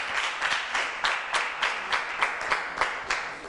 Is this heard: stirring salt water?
no